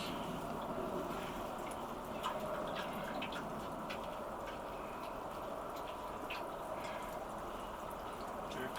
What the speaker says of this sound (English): Get some water in my carrots.